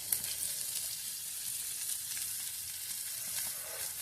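Fish frying in a pan in a Konkan home kitchen, a steady bright sizzle and crackle close by, fairly quiet and continuous, with no voices.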